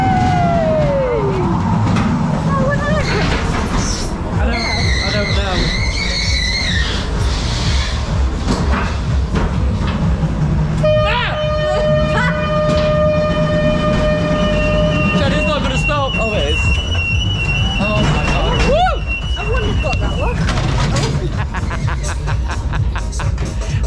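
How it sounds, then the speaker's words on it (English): A ghost train ride at the Farrars Fun Fair in Endcliffe Park gives off loud wailing siren-like tones and electronic effects over constant rumbling ride noise, with voices talking through it. "That was the ghost train."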